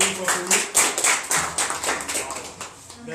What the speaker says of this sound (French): Applaudissez un peu une fois pour nous.